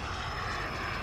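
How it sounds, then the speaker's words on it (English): An aircraft drones steadily overhead in the Call of Duty Modern Warfare video game, a broad continuous engine roar that fills the whole second without breaks or voices. "Nah, that plane ain't nothing nice."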